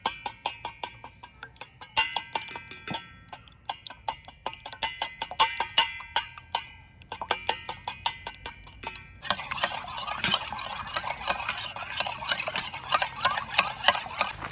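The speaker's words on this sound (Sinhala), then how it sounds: "අපි බිත්තරයක් ගහගමු ෂේප් එකේ" Eggs beaten in a bowl outdoors in a forest make rapid, rhythmic clinking whisk strokes in bursts with short pauses, then a denser, wetter stirring sound near the end.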